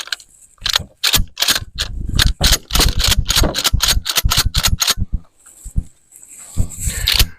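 An old Mossberg 500 12 gauge pump shotgun is unloaded with a rapid series of sharp, close metallic clacks and shell clicks from the pump action, several seconds of crisp mechanical snaps then a short pause and a few more.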